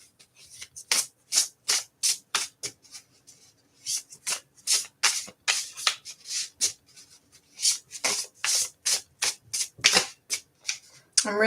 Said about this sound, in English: So let's get you a card, Kyler.